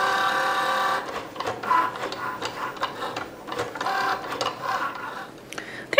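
Cricut cutting machine cutting vinyl for a back-to-school water bottle craft, a quiet mechanical whir with rapid ticking and clicking bursts as the blade carriage moves back and forth.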